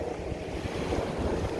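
Bay water laps the St. Pete shoreline of Tampa Bay, a continuous close surf wash with low thumps and wind gusting across the microphone; nobody speaks.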